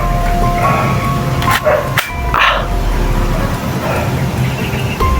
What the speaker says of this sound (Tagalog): may narinig po tayong aso.